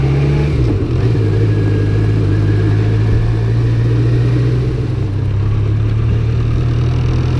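A BMW K1200LT motorcycle engine running on its first start of 2021, a loud, steady close-up idle with a deep even rumble and a slight pitch shift near the start, no voices.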